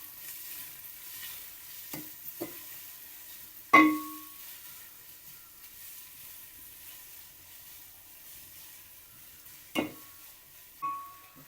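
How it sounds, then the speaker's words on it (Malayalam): Large onions for dum biryani are stirred as they fry in a pan. A faint, quiet sizzle runs underneath, broken by a few distinct spatula knocks and scrapes against the pan. "ഇത് നന്നായിട്ടൊന്ന് ഇളക്കി കൊടുക്കണം."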